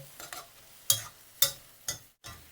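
Glass noodles stir-fried in a pan, the way a curry-and-rice shop cooks them as the liquid nearly dries; four sharp, close spatula scrapes land at irregular intervals over a faint sizzle, with no talking.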